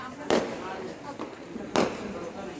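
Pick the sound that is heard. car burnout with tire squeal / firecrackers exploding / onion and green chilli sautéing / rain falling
firecrackers exploding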